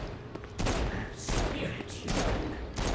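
Rapid bursts of pistol gunfire in the video game Saints Row: Gat out of Hell, several clustered volleys in about three seconds, loud and close, with a brief game voice heard.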